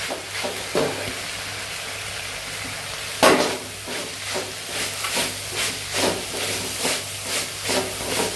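Beans and carrots sauté in a hot pan with a steady sizzle and hiss, broken by a sharp clatter and then a regular series of stirring scrapes, close and fairly loud.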